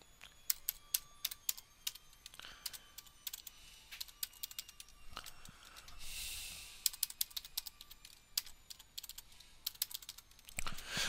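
Quiet computer keyboard typing: irregular bursts of light clicking keystrokes at close range, with a soft rustle midway and pauses between groups of keys.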